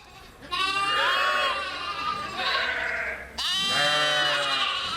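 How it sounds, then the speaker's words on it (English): Sheep bleating on a farm in Richford, Vermont, loud and close: a long quavering bleat followed after a brief pause by a second, with no talk over them. "We've been raising sheep here for probably the last 30 years or so."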